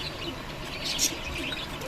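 Pigeons in a bird-selling yard with doves, finches, budgerigars and cockatiels give soft, brief cooing amid faint chirps and a low murmur of background voices.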